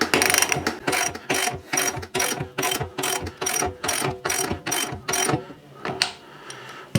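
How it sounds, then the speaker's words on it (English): A ratchet wrench with a 15mm socket tightens a wheel nut while a Hyundai HYYW70 weeder is assembled, giving a close, loud train of rapid clicking bursts in a steady rhythm that stops near the end. "then we've got the nut to tighten, a 15mm socket"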